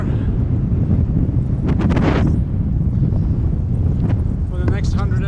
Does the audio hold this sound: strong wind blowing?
yes